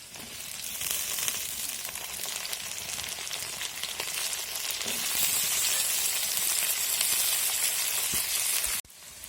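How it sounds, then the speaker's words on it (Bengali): Potatoes fry in a wok with a continuous moderate sizzle and crackle that grows a little denser midway, then breaks off abruptly at the very end; no one speaks. "আলু ভাজা হচ্ছে"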